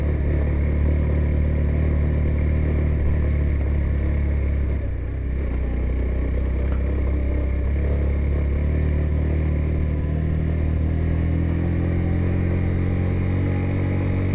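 A motorcycle grinds up a steep, straight mountain road in the Astore valley, its engine droning steadily and loud throughout with a continuous low rumble and wind noise and no pauses.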